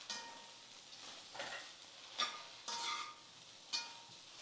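Okra and potato stir-fry sautés quietly in a pan over a low flame, with a soft, continuous sizzle broken by several scraping bursts as a spoon stirs the vegetables.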